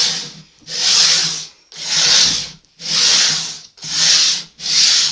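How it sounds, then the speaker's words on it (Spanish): Coarse sandpaper worked by hand along the grain of a wooden side table's lid, five long rasping strokes in steady rhythm with short gaps between, close and loud, no talking. "Es una lija bastante gruesa, ¿veis? Se está llevando madera con ella."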